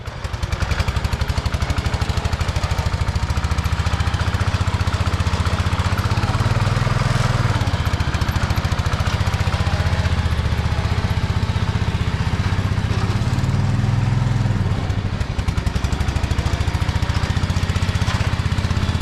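A Ford 120/140 garden tractor engine runs steadily and loudly close by, with a constant throbbing drone that rises and falls slightly in pitch as the throttle shifts.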